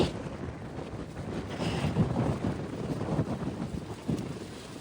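Steady wind buffeting a microphone outdoors at a campsite, a continuous low rumble with gusty swells and no voices.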